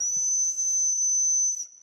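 A single shrill whistle blown in one sustained high-pitched blast lasting over a second, loud and close, then cutting off.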